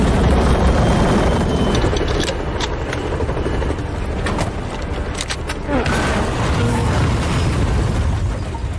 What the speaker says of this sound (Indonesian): Di tengah pertempuran, helikopter penjemput tiba